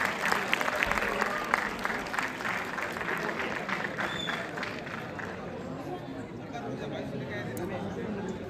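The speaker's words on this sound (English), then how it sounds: "Kindly give them a huge round of applause." Broad applause from a large audience welcoming dignitaries at a college event, a dense continuous wash of clapping that starts strong and slowly thins, with crowd chatter beneath.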